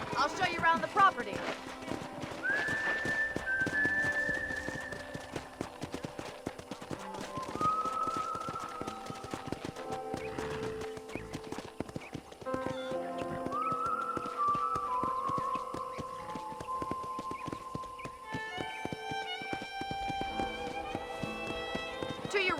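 A horse's hooves clip-clop steadily in the Red Dead Redemption video game, a continuous rhythmic trot under music tones and speaking voices throughout.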